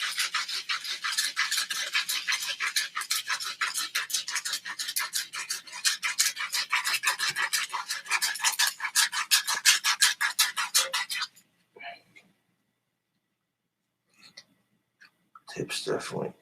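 Rapid, rhythmic rasping strokes of sanding on a wooden wand, steady and close for several seconds, then stopping, followed by a few brief rubbing scrapes.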